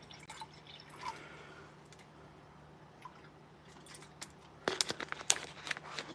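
Water from a bottle poured into a cherry fruit-flavored drink mix, a quiet gurgling trickle that builds into a louder burst of splashing and dripping near the end.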